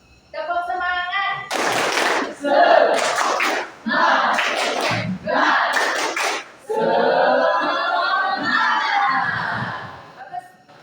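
Schoolchildren in a classroom clap and shout a rhythmic cheer chant in loud bursts, alternating with a teacher's voice leading them and a sung stretch near the end.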